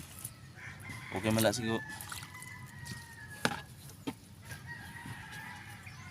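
Chickens on a small home garden plot, with a burst of clucking and cackling near the start and a brief crow-like call, then scattered quieter calls over outdoor ambience; a short spoken remark comes in partway through.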